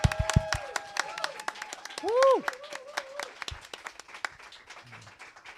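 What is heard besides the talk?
applause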